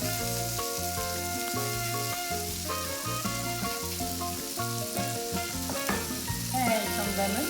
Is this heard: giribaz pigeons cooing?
no